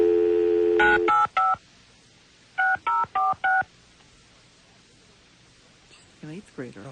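Telephone keypad dialing: a long tone, then quick bursts of DTMF beeps in two groups, close and clear, with a person speaking faintly at the end.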